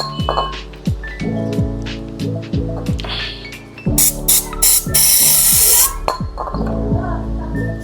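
Cleaner sprays in a steady hiss for a couple of seconds onto a Toyota Corolla throttle body, following a series of small metallic clinks and taps up close.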